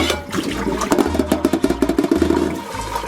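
Water drains from an upturned bowl of washed lettuce, a close, steady splashing pour with a run of quick gurgling pulses midway, trailing off at the end.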